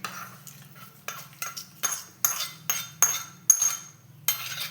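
A metal spoon stirs North Karnataka style raw poha with a tempering mixed in, scraping and clinking against a bowl in a steady run of close, bright strokes, with no talking.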